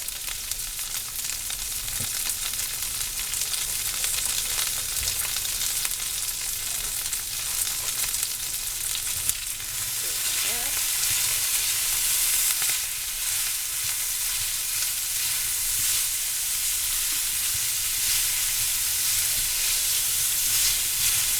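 Garlic sizzles steadily in a hot pan, a dense, even crackling hiss that runs without pause for the whole stretch, close and fairly loud, with no voices over it.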